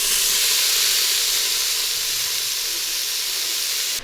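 Bacon cooking in an Instant Pot gives off a steady, loud sizzle with a hiss that stays unbroken for several seconds before it cuts off abruptly at the end.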